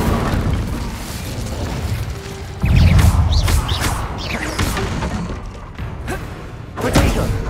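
Fire spell cast in the Hogwarts Legacy video game, heard as a heavy booming burst that swells partway through amid a dense clash of thuds and crackling combat effects.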